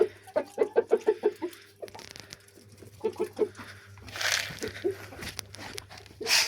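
A rooster clucks in a fast burst of short notes, then a few more after a pause, close and moderate in volume, followed by rustling and scratching noise.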